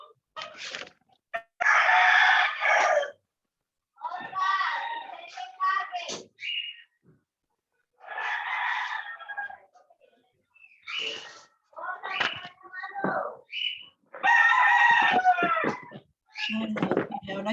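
Chickens clucking and a rooster crowing in repeated bursts with short quiet gaps, loud and fairly close, with no other sound between calls.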